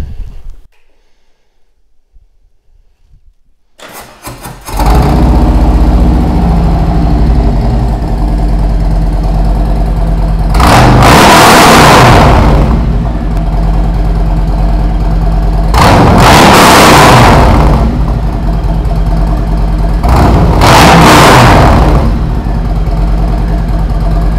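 A car engine fitted with new exhaust pipes starts after a few seconds of quiet, then settles into a loud, steady idle. Three throttle blips swell and fade at even intervals, each a deep, booming roar close to the microphone.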